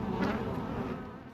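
Swarm of bees living in holes in the walls of a Houston-area home buzzes in a dense, steady drone, close and fairly loud, fading slightly toward the end.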